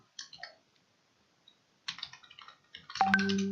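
Close keyboard typing in scattered bursts of light clicks with pauses during an online language class, ending with a louder, sustained tonal sound over the last half second.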